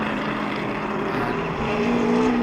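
A Ferrari race car engine at a vintage race at Sonoma, a loud sustained drone whose pitch climbs steadily as it accelerates, heard alone.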